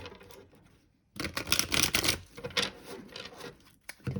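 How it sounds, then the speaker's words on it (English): Quiet rustling gives way to a burst of rapid, crisp card flicks as a tarot deck is shuffled, followed by softer shuffling sounds. "do one last shuffle."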